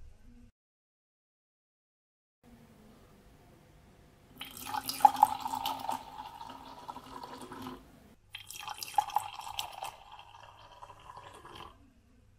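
Water poured from a container in two separate pours, a fast splashing trickle that starts after quiet, stops briefly, then resumes before fading out.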